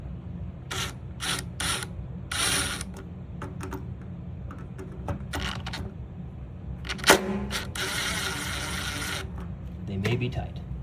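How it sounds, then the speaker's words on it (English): Screws are loosened on a water heater thermostat, giving close bursts of quick ratcheting clicks separated by short pauses. A voice is heard in places. "But what I'll do now is loosen up the screws."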